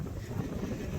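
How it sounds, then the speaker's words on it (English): Strong wind on the Camino de Santiago trail buffets the microphone in a constant low, roaring rumble with no break, loud and close. "It's windy as heck out here."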